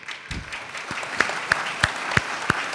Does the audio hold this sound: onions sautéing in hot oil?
no